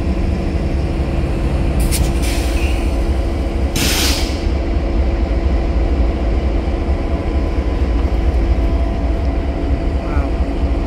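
A CSX freight train rolls past at Goodman Street, a steady loud rumble and clatter of wagons with a couple of brief bright squeals or hisses early on; no voices.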